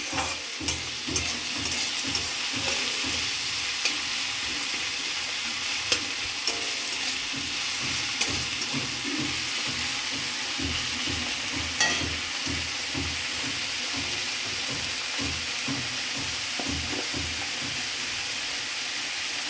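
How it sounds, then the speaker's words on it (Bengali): Tomatoes stir-fried in a pan, a steady sizzle and hiss with rhythmic scraping strokes of a spatula repeating throughout, close and continuous, with no talking. "টমেটোটা ভালো করে বেঁচে নেব তা না হলে টমেটোর কাঁচা গন্ধ যাবে না"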